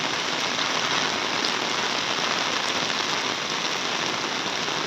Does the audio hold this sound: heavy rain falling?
yes